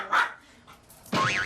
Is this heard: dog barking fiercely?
yes